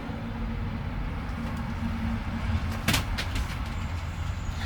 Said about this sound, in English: This is a very busy street of industrial trucks and things.